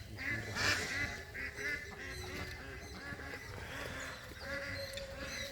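Ducks at a village pond raise a noisy chorus of honking quacks, several calls overlapping in bursts at moderate distance, fairly faint, with low background murmur.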